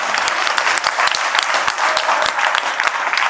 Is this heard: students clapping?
yes